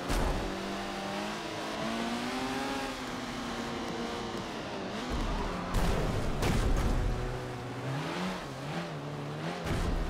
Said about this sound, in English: You can hear my tires spinning in second gear with low RPMs.